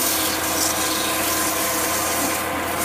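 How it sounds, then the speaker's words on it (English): Sandpaper rubbing over a wooden candlestick holder, a steady continuous scratchy sanding sound, close and fairly loud, with no speech. "And I can just take it and sand it."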